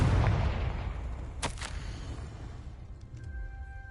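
A Confringo blasting spell in Hogwarts Legacy bursts with a booming explosion that decays, followed by a brief sharp crackle and fading rumble, with no talk.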